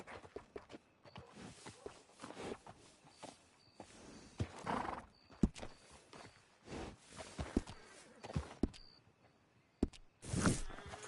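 A horse in the Red Dead Redemption 2 game whinnying and snorting near a stable, with hoof clip-clops and footsteps in scattered bursts against a quiet background.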